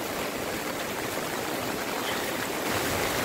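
Rough, heavy sea waves at Boracay beach during the rainy season, heard as a steady, dense wash of surf noise throughout with no break and no voices.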